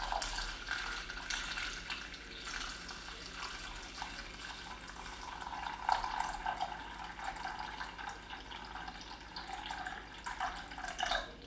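Distilled water trickles and drips as it is poured into a container for cold process soap making, a faint, continuous pour with small splashes close by and no talk.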